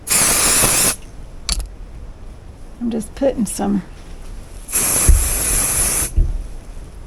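Quilt spray hisses from an aerosol can onto denim quilt pieces in two loud, sustained bursts, one at the start and another near the end, with a person talking briefly between them.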